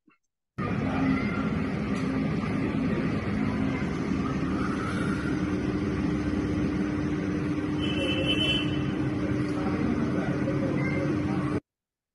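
Road traffic in a car accident recording from Chile, with a continuous engine and road rumble that starts abruptly, holds steady for about eleven seconds, then cuts off.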